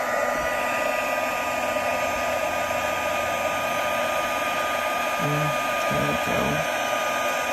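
A heat gun melting embossing powder on paper blows a continuous, loud, close hiss throughout, and a person speaks briefly over it near the end.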